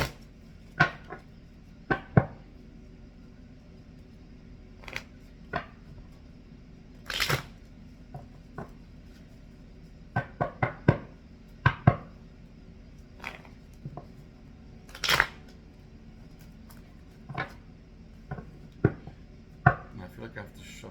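Tarot cards being shuffled by hand, producing scattered soft taps and riffles at irregular intervals, quiet and close over a low, steady room background.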